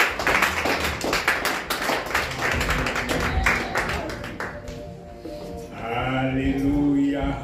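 Church congregation applauding, a dense burst of many hands clapping that fades after a few seconds, followed by voices and talk.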